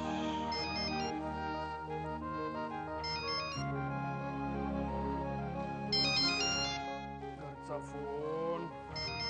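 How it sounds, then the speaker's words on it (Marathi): A phone ringtone plays repeatedly in a home scene from a Marathi TV serial, a melodic electronic tune that loops several times, with background voices and music faintly beneath it. "फोन."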